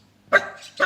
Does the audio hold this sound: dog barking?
yes